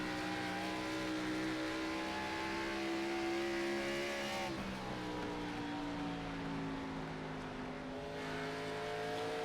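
Onboard sound from race car 33 at Rockingham: a loud, sustained engine note with strong harmonics that dips briefly as the driver shifts or lifts, then builds again.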